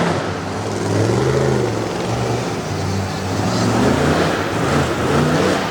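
A monster truck engine roars and revs hard through a freestyle run at a Corbin motorsports event, loud and close with rising and falling pitch.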